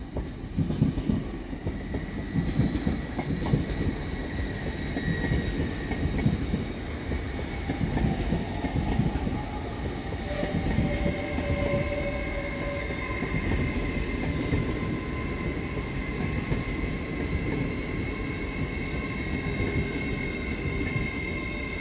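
An LNER Azuma train rumbles steadily into platform 4 at Doncaster station, low rolling noise with faint tonal whines and clatter throughout, fairly loud and continuous with no voices.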